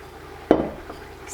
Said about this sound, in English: Stir those around.